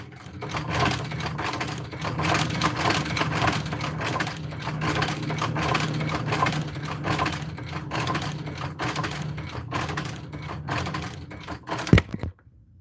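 A sewing machine stitching leather runs steadily with a rapid mechanical rhythm for several seconds, then a sharp knock near the end as the camera falls over.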